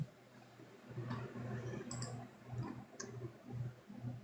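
Soft keyboard typing for an ASMR stream, faint irregular clicks and taps over a steady low hum, with no talking.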